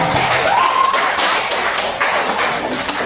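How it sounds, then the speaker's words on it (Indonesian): Classroom applause during a microteaching lesson on human joints: a steady, dense patter of clapping from a group fills about three seconds at moderate loudness, with no talk over it. "Beri aplaus dulu kepada Pizza."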